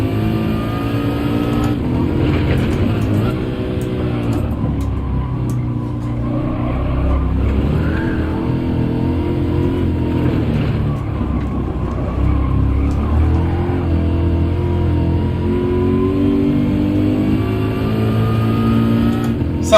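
Deep, continuous engine rumble from a racing car in Gran Turismo 7, revving and shifting through the gears with steady loud drone and occasional surges, a faint voice now and then.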